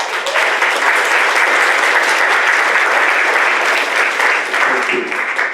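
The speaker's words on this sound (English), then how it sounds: "I would encourage a round of applause for the board" A conference audience at an annual meeting in Fort Worth, Texas, applauds its board with loud, sustained clapping that fills the room steadily from start to finish.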